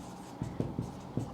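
Chalk tapping and scraping across a board in a chemistry lecture, a few short, quiet strokes in quick uneven rhythm in a calm room.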